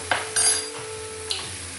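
Curry powder and turmeric sizzling in hot oil in a pan for brinjal bhaji, with a close, steady fry and a couple of sharp scrapes and clinks as a utensil stirs them, and no voices.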